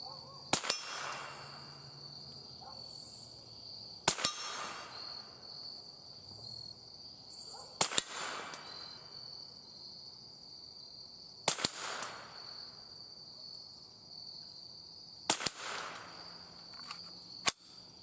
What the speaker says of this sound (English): I've got 5 rounds loaded up here, and we'll see how well it feeds and functions